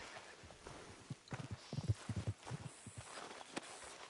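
Horse hooves clip-clopping in the video game Red Dead Redemption 2, an uneven run of soft thuds on dirt close by, faint and alone.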